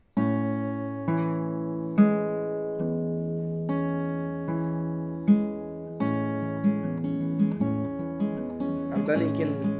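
Acoustic guitar strings are plucked one at a time in a slow, even fingerpicking pattern, each note ringing clearly with no talking.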